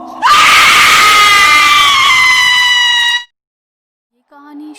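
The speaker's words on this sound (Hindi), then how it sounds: "और ये देख के श्वेता की चीख निकल जाती है" A woman in a horror story lets out a single loud, piercing scream that holds for about three seconds and then cuts off abruptly. After a brief silence, a short, faint tonal sound follows.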